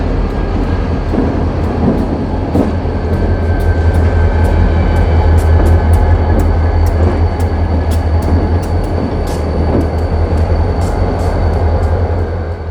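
A Reading & Northern freight train led by locomotive 5019, a former CSX SD50 downrated to 3,000 horsepower, trailed by SD40-2s: a loud, steady diesel rumble with repeated sharp metallic clicks from passing wheels, continuous and close.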